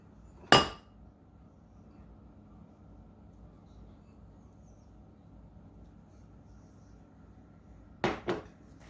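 Rainbow cake batter is spooned into bowls, and two isolated clinks of a spoon against dishes ring out, one early and then a quick double knock several seconds later, crisp and close in an otherwise quiet room.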